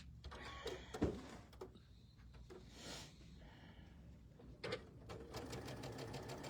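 A home sewing machine runs in uneven spurts while stitching tabletop banners, its motor whirring and clattering close by with stops and restarts, no talking over it.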